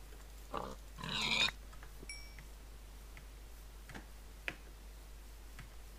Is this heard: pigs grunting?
yes